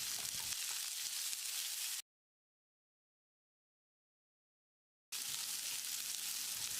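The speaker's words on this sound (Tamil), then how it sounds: "வெங்காயத்தை கண்ணாடி பதத்துக்கு வதக்கினா மட்டும் போதும்." Sliced onion and green chilli sautéing in a pan for a potato white kurma, giving a steady close sizzle broken by a stretch of complete silence before the frying hiss returns.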